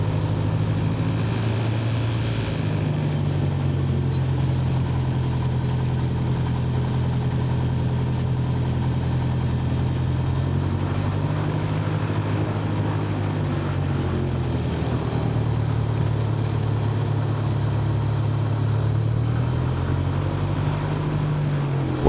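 A light aircraft engine runs at idle beside a Cessna before takeoff, giving a continuous close, droning propeller rumble with a low throb that holds steady for the whole stretch, with no voices.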